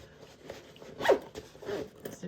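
A zipper runs along a sewn fabric lunch bag with a dual-zip opening, giving a brief close rasping pull in the middle and a second softer pull after it, heard alone.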